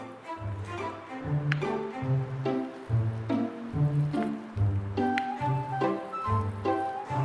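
Wet cloth being wrung out by hand during a traditional Korean cultural activity, giving repeated rhythmic squishing and dripping bursts about every three quarters of a second, close and moderately loud.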